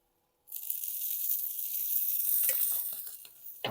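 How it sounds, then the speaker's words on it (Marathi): Oil poured over wild vegetables in a hot pan bursts into a loud, steady sizzle after a moment of silence, with a few clattering scrapes near the end. "आता याच्यावर तेल टाकून घ्यायचं"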